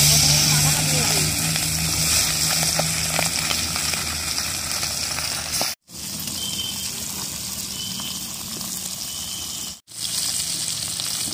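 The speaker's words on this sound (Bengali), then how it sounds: "এবার আমার মাছটা ভেজে নেব। তেল গরম হয়ে গেছে।" Pieces of katla fish rubbed with salt, turmeric and chilli paste frying in hot oil, a loud steady sizzle and crackle that runs throughout, broken by two brief silent gaps.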